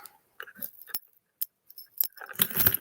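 Small metal steampunk keys clink and jangle as they are handled, producing sparse, close taps and chinks that build into a denser rattle near the end.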